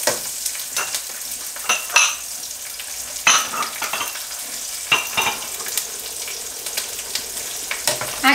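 Onion and garlic fry in a pan while mole is being made, with a steady close sizzle and repeated sharp scrapes and clicks from stirring; no one speaks.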